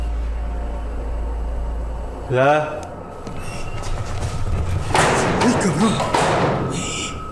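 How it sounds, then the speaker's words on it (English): A heavy unseen object is thrown to the ground inside a haunted church, landing with a single loud, close thud, followed by scuffling noise and faint voices. "Something heavy and out of sight was thrown on the ground."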